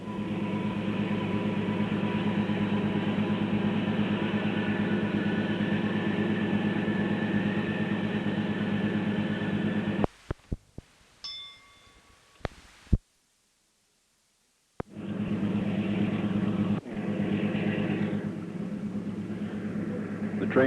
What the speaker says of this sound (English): We are now rounding the big curve in the south belt.